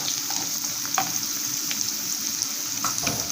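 Onions fry in a pan with a steady, close sizzle, while a few soft stirring scrapes and taps rise above the hiss at irregular moments, and no one speaks.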